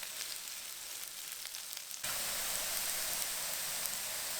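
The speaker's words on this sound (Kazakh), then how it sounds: "Үлкен табаға өсімдік майын құйыңыз, оны қыздырыңыз және алдымен 250 грамм пиязды қуырамыз." Onions fry in heated vegetable oil in a large pan, a quiet hiss that jumps abruptly to a louder, dense sizzle halfway through and holds steady.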